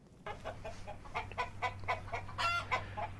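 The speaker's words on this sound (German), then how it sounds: "Ein Nachbar kommt vorbei und liefert 3 Hühner" Three chickens brought by a neighbor in Zambia cluck repeatedly in quick, close bursts over a low steady hum.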